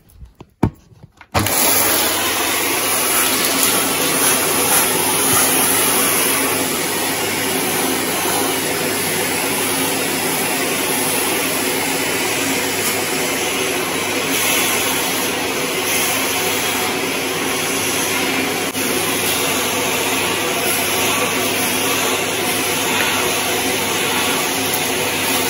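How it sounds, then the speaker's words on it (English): A Shark corded upright vacuum cleaner with anti hair wrap cleans stairs, starting with a few clicks and then holding a loud, steady motor whine close by for over twenty seconds. "So that is the hoovering done."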